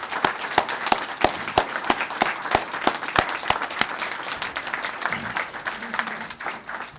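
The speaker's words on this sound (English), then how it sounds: "let's give them a hand right now" Loud applause from the audience at a Seattle mayoral announcement greets new care responders, many crisp claps blending into a dense wash before tapering and a voice begins.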